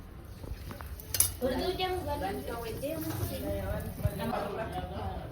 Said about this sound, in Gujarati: હવે એને કટિંગ કરવા ઉર્વિશાને આપી દે